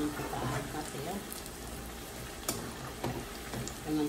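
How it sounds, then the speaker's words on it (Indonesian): Eggplant frying in hot oil in a home kitchen, a steady crackling sizzle with scattered sharper pops, close and moderately loud throughout. "Jangan terlalu lama gorengnya, takut benyek nanti."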